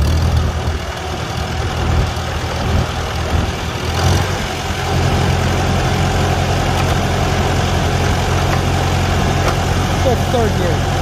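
A 1949 Farmall Super A tractor engine runs steadily for the whole stretch, a loud, low idling rumble with a brief bump near the middle and no talk over it.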